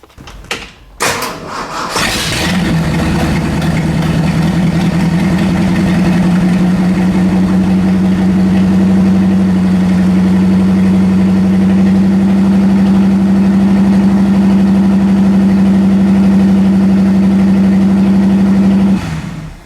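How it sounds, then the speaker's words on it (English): A loud Ford Mustang engine with no exhaust, a junkyard car just started, idles with a rough, steady drone after starting up, running evenly for nearly twenty seconds. "And she ain't got no exhaust. No wonder why it's so loud."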